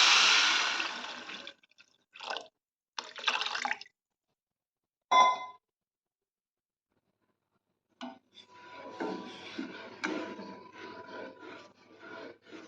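Water poured into a pan of cornflour and sugar mixture while making Karachi halwa, a close splashing pour at the start followed by short bursts of stirring and scraping with quiet gaps.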